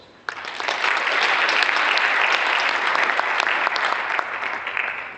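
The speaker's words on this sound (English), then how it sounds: "A round of applause." Dense, loud audience applause at a university farewell ceremony breaks out abruptly and holds steady for several seconds, a full room clapping together with no speech over it.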